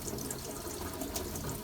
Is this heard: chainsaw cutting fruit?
no